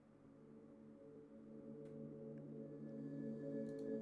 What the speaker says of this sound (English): That's just a boring pad